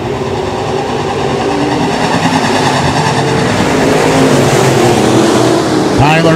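USRA B-Modified race cars roar off the start of a heat race at Rapid Speedway, a loud, dense rumble of many engines building steadily under a crowd-filled outdoor atmosphere.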